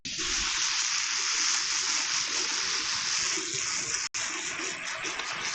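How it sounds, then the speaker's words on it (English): A handheld diaper sprayer blasts water in a steady loud hiss and splatter for several seconds, with a brief cutoff near the end before the spray resumes. "Grab my diaper sprayer."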